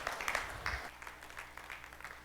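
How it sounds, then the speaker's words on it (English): Forum audience at the Shell Powering Progress Together Forum 2016 gives a quiet, distant round of applause, scattered claps fading after the first second into a sparse patter. "Let's give him another round of applause."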